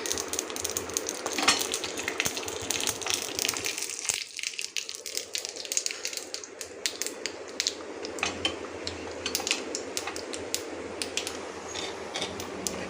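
Steady crackling sizzle of mustard seeds, urad dal and asafoetida frying in hot oil, continuous and close, with occasional clinks of a utensil against the pan.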